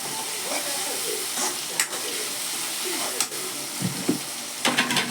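Tomatoes and potatoes fry together in oil, making a constant hissing sizzle up close, with a few scattered clinks and scrapes of stirring and no talk.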